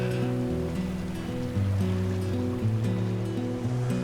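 Ocean surf washes in at a sea lion pups' shoreline, a steady hiss of breaking waves under a prominent music track.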